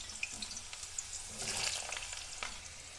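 Potatoes tipped into hot oil in a wok while cooking taro-root fish curry, giving a steady close sizzle of frying that swells briefly as the pieces land, with faint stirring and clinking.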